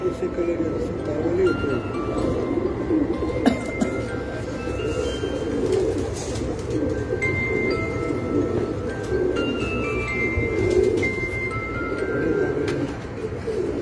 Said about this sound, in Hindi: ये कबूतर है जी मेरा रोजपुरी और कमकगर क्रॉस